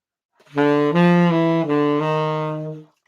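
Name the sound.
jazz enclosure lick played on instrument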